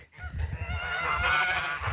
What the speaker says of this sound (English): The geese are tormenting